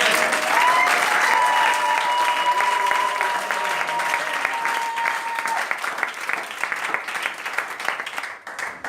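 A church congregation applauding during a Sunday morning service, loud and sustained clapping from many hands that tapers off toward the end, with a faint sustained tone underneath.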